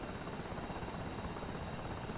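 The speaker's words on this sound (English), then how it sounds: "And the chopper trying to refuel again." Video game helicopter hovering over an aircraft carrier during refuelling, a steady, loud rotor drone that holds evenly with no break and no voices.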